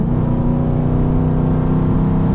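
Dodge Charger Pursuit police car with a Hemi V8 accelerating at about 60% throttle, a loud, steady, deep engine drone heard up close from inside the car, with no talk over it.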